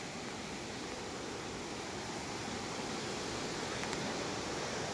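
Jalbire waterfall, a steady broadband rush of falling water that holds at an even level throughout with no pauses or voices, heard from fairly close by.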